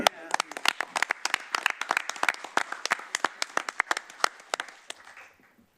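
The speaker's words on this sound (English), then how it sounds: "Let's give a round of applause." A round of applause at a county board of commissioners meeting: scattered, distinct hand claps from a modest group, loud and close, thinning out and fading at the end.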